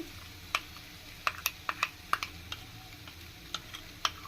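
A spoon stirring condensed milk into a lachha semai burfi mixture in a pan, producing sharp irregular clicks and taps against the pan over a quiet background.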